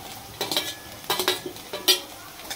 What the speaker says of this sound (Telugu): ఇప్పుడు ఈ ఉల్లిపాయల్లో ములక్కాయ కూడా వేసుకుందాం.